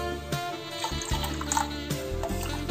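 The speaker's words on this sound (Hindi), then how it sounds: "अब हम लोग 3 कप पानी डाल रहे हैं" Water is poured from a cup into fresh homemade yogurt for kadhi batter, three cups in all, making a soft, steady trickle and splash, close and fairly quiet, with short breaks between pours.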